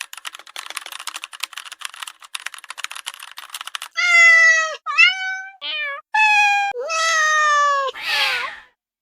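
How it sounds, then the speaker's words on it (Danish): Rapid keyboard typing clatters for several seconds, then a Minecraft cat meows loudly and clearly five or six times in a row, each cry short and separate. "Er det en kat, der siger det der?"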